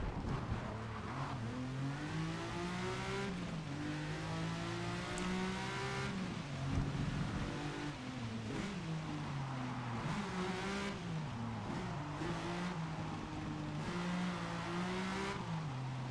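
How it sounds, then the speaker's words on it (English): Car tires skidding across a wet track in Forza Motorsport, a sustained engine whine with gliding pitch shifts as the car slides and revs, loud and continuous throughout with no talk. "Man, I can hear the skidding."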